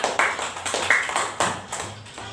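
A classroom of students claps for a group after their presentation, with a handful of sharp, uneven claps rising and fading over a couple of seconds.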